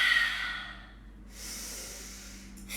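A person breathing deeply during a yoga flow, a long airy exhale through the mouth followed by a pause and a softer hissing breath, close and moderately quiet.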